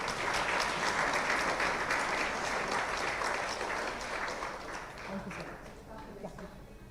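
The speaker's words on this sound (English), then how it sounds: "a big round of applause for our guests today" An audience at a hospital event applauds steadily, a dense wash of clapping that slowly thins out toward the end.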